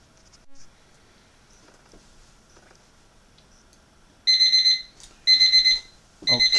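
A kitchen timer's alarm goes off after five minutes while kerosene cooking is underway: after a quiet stretch, three loud, close bursts of rapid electronic beeping sound with short pauses between them.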